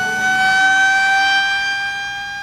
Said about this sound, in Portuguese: termina quando a sirene avisa que é hora de descanso